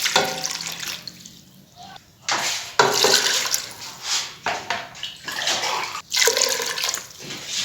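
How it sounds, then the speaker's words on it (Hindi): Water pours in several splashing bursts with short pauses between, gushing into a metal pressure cooker close by. "तीन गिलास हम इसमें पानी डालेंगे।"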